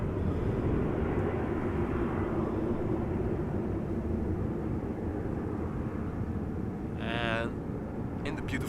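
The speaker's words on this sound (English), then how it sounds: "Embraer 190 on its way to Newcastle" An Embraer 190 jet departs Amsterdam Schiphol, a steady low rumbling roar at a moderate distance, with a brief chirping sound breaking in near the end.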